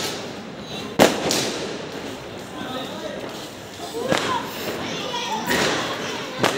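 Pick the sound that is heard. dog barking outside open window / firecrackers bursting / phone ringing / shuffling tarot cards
firecrackers bursting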